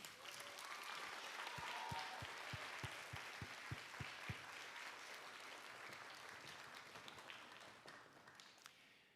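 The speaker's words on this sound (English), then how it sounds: "So students, let's give your mum and dads a round of applause." Audience applause at a school spring concert, a full crowd clapping steadily with a few loud rhythmic claps near the start, gradually tapering off over several seconds.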